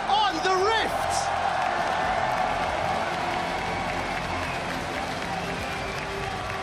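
An arena crowd at the 2015 League of Legends World Championship quarterfinal applauds and cheers, a broad sustained wash of clapping and whoops with a voice speaking over it.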